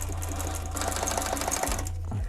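Sewing machine running steadily on car seat upholstery for an old-school Cutlass reupholstery job, a fast continuous stitching whir up close, briefly pausing near the end before resuming.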